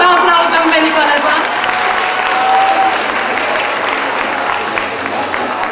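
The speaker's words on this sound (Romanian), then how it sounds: "Să aplaudăm pe Nicoleta!" Loud, sustained crowd applause with some cheering fills a school hall at a freshman ball, steady and dense throughout.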